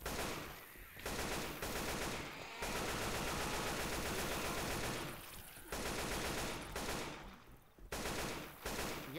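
Rapid automatic gunfire from Left 4 Dead 2 roars in long, dense bursts with short gaps between them, loud and close with no talk.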